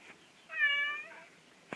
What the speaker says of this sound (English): 8 kitties all in one room.